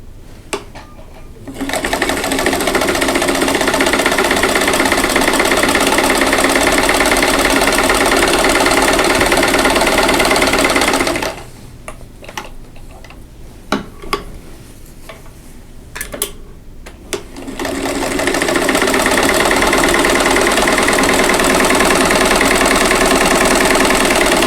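Sewing machine stitching quilt fabric squares, sewing a quarter inch from a drawn line to make half-square triangles; a loud steady whirring run for about ten seconds, a pause with small handling clicks, then another long continuous run.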